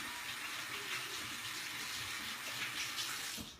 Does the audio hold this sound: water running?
yes